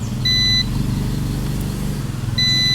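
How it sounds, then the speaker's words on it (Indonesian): A multimeter gives two short, high, steady continuity beeps when its probes touch a motorcycle's wiring: one near the start, one at the end, over a low background hum. "Ingat avometer kalau ditempel di sini ada suara bunyi."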